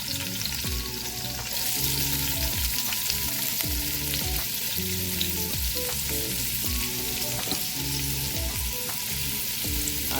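Ackee with slices of Scotch bonnet pepper sautés in a pot, a close, constant crackling sizzle marked by regular taps and scrapes of a spoon stirring, loud and even throughout, with no speech.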